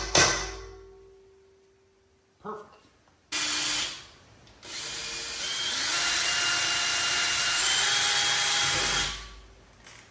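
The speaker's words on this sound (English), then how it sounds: "we'll go ahead and drill that hole next" A power drill bores a hole in a Toyota Tacoma roof rack, starting with short bursts, then a longer steady whine as the bit cuts through metal, then stopping.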